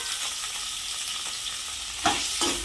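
Tomato pieces cooking in a pan hiss with a constant bright sizzle, close and even, and a couple of spatula scrapes come toward the end; no voices.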